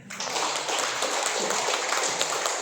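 An audience applauding at a health talk, steady clapping from many hands that starts abruptly and carries on evenly throughout.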